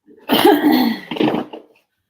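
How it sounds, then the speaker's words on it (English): A harsh, raspy coughing fit close by, a rough burst followed by a shorter second cough, then silence. "You're coughing against a raw throat."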